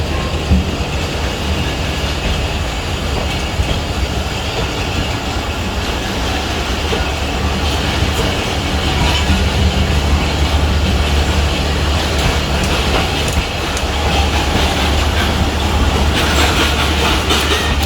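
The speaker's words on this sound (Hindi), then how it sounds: "तो इस वक्त दोनों गाड़ियां अपनी अपनी सिमत में रवाना हो चली हैं।" Two Pakistani passenger trains pull away from a station, a loud, continuous rumble of wheels and carriages with faint clicking and squeal, heard close with no talking.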